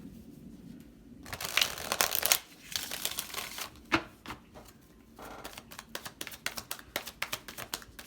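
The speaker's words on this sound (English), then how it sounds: "I'm going to do one more shuffle." Tarot deck shuffled by hand in several bursts, crisp riffling and slapping card sounds with brief pauses between passes, close and fairly quiet with no talking.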